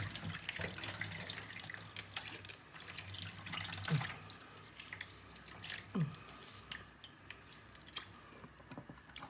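Liquid from sauerkraut, prepared for Ukrainian kapustniak soup, is poured out into a kitchen sink, giving a steady, moderately faint splashing and trickling with a few drips over the whole stretch.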